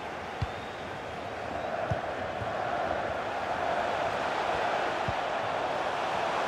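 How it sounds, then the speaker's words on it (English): Crowd at a Hannover 96 Bundesliga football match, a broad steady roar of many voices filling the stadium that swells slightly over time, with a few sharp knocks scattered through it. "Listen to the crowd reaction."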